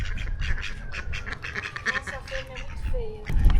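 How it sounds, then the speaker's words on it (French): Ducks quack in scattered bursts amid outdoor background noise, fairly close, with rough low rumbles and some faint human chatter underneath. "encore un gang de canards"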